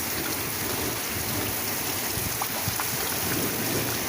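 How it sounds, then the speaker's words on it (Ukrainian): A Rivne-region thunderstorm with heavy rain pouring steadily and close, a dense continuous roar with low thunder rumbling underneath. "Гримить, блискає дуже."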